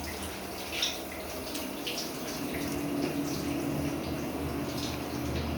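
Running water from a hotel shower pours steadily, fairly faint, with a soft continuous splash and no talking.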